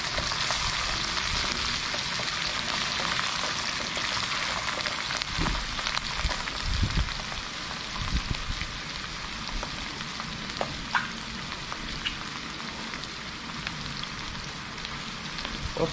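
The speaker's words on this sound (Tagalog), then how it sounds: "Gisa-gisayin na natin yung mushroom na ito." Mushrooms sauté in a pan with a continuous close sizzle and frying crackle, broken by occasional stirring scrapes, and no talk.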